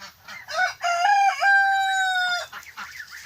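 Loud crowing from young roosters fighting up close, a long strained crow preceded by short clucking calls, with no talking.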